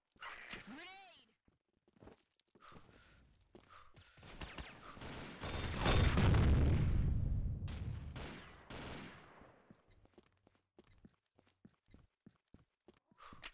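Grenade blast amid gunfire in the shooter game Combat Arms, with scattered sharp shots and a short burst early, then a loud, rolling explosion swelling in the middle before trailing into more isolated shots and brief voices.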